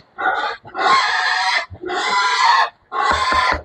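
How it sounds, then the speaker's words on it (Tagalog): A hungry young Large White pig squeals loudly in three long, harsh bursts with short pauses between, close by and insistent, on a farm. "Dumalagang baboy na large white. Ibig sabihin, nagugutom na siya."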